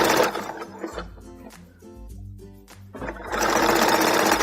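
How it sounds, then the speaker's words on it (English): A sewing machine zigzag-stitches tulle for a skirt, its motor whirring in bursts that slow and pause mid-clip before running loud and steady again, with no talk. "I'm going to stretch it just a little, and I'm going to zigzag it."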